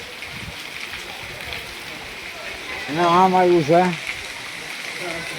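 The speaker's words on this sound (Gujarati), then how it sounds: "વરસાદ ચાલુ ચાલુ છે વરસાદ બંધ નથી થતો" Steady rain falling in a village during monsoon flooding, a constant close hiss of rain throughout, with a voice talking over it in the middle.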